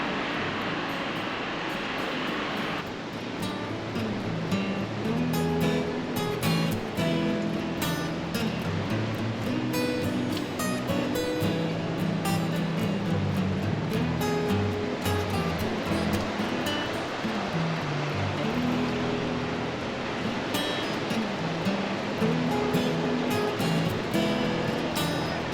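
Ocean waves wash steadily against a rocky, layered shoreline, a continuous loud broadband roar of surf with rolling swells throughout and no talk.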